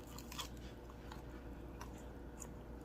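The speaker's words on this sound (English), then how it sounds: "Let's give it a little crunch test and see what we got." Biting into crunchy air fryer chicken wings coated in tapioca flour, cooked on a Ninja Foodi Grill, giving a few soft close crunches and chewing sounds over a steady low background hum.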